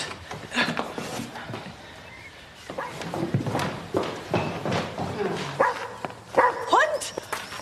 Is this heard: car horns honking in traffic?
no